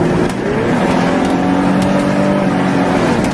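A one-owner Audi A6 Cabriolet 80 Classic convertible drives and accelerates, its engine a steady, loud, close hum with rising tones over constant road noise throughout, with no talking.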